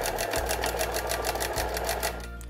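A sewing machine stitches a buttonhole in a fast, steady run of needle strokes, loud and close, with a brief start at the beginning and slowing near the end.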